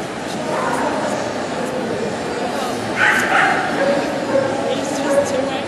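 A young sheepdog barks and yips in short bursts at a Crufts senior agility event, over steady outdoor background noise, with voices talking underneath.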